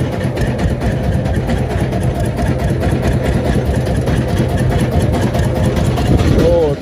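A wooden Vietnamese fishing boat's engine chugs steadily at close range, a loud, continuous rumble that holds the same pace throughout.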